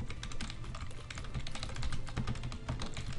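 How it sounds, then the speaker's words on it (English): Computer keyboard keys pressed hard in rapid succession make a dense run of sharp, close clacks that continue steadily without a pause. "If I press the keys hard enough"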